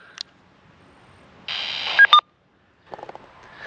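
A short electronic tone, then a burst of DTMF keypad tones from a handheld radio keying a repeater node, with a few brief beeps, followed by a crackle of radio noise.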